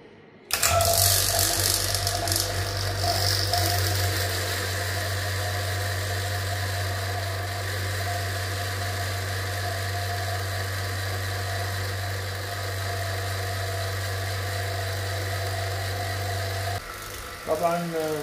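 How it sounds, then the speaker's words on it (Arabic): A vacuum pump runs steadily, evacuating the lines of a split air conditioner indoor unit, with a loud, constant low hum and mechanical whine that starts abruptly and continues for a long stretch without talk. "راح نبدأ بعملية الفاكيوم."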